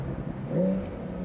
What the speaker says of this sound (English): obviously with the cab, you can hear a bit more engine noise, a bit more exhaust.